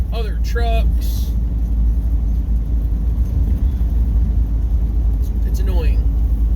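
Highway traffic through a construction zone, a constant low rumble of cars and trucks passing close by, with a voice talking over it throughout.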